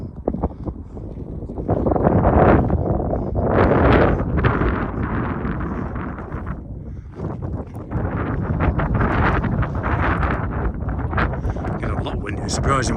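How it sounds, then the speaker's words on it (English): Wind gusting across open moorland, a steady roaring rush with louder swells, heard near the microphone and buffeting it throughout. "Get a lot windy. It's surprising once you get up on the moors. A lot of wind can pick up."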